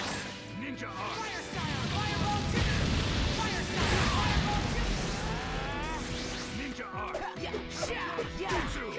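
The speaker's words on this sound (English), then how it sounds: "Fire style! Fireball!" A fire-style fireball jutsu blasts out in the Naruto Storm 4 video game, a loud, sustained roaring burst with crashing impacts layered over game music and effects for several seconds.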